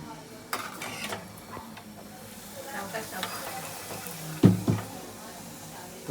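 Puris frying in hot oil in a home kitchen, a continuous soft sizzle under talk, with a couple of louder clanks of utensils against the pan near the end.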